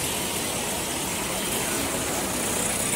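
A Sonalika 45 double-clutch tractor, a 2008 model, idles steadily at a tractor market, its engine giving a continuous low rumble that stays at an even level with no talk.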